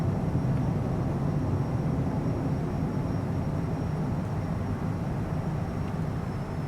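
A Cessna Citation CJ4 business jet climbing just after takeoff in a flight simulator, heard as a steady, even cockpit engine drone with a broad low roar and a faint high whine, unbroken and with no talking.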